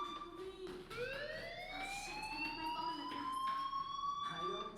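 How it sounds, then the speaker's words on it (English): A rising electronic fire alarm tone in Life Is Strange on PC, sweeping steadily upward over nearly five seconds, loud and continuous with game ambience and faint voices underneath. "do you hear that fire alarm? That means you should be outside"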